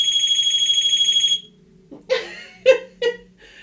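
A steady pulsing electronic beep plays for about a second, then stops; a few short bursts of voice or laughter follow.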